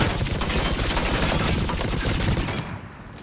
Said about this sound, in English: That turret can change the dynamic of whole battles.